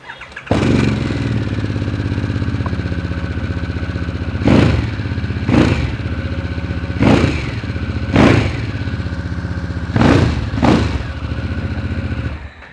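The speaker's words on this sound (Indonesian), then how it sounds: "Tapi kalian harus denger dulu suara mesinnya ya." A Harley-Davidson Sportster S engine with stock exhaust idles with a steady low rumble, then revs up sharply six times in a row, each burst loud and close before settling back to idle.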